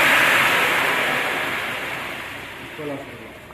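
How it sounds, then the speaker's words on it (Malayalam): Water pours into a cooking pot of sautéed spices for chicken mandi, making a loud, broad rushing splash that slowly fades over a few seconds. "മുളക്കിയ ശേഷം നമ്മൾ ഇതിലേക്ക് വെള്ളം ഒഴിക്കുകയാണ്"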